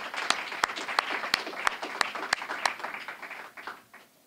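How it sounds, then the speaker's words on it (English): An audience at a community foundation grant announcement reception gives a few seconds of moderate applause with sharp, separate claps standing out, then the clapping fades away. "So I want to applaud all that."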